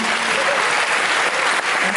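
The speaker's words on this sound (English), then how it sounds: "Big round of applause from Pastoral." Audience at a gala film premiere at the Zurich Film Festival breaks into a dense, loud burst of clapping that holds steady throughout.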